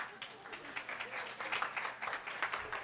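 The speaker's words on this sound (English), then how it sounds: "So please, a round of applause for Jessica." Audience at a college ethnic studies forum gives a round of applause, a soft, fairly distant patter of clapping lasting a few seconds with faint crowd murmur and voices mixed in.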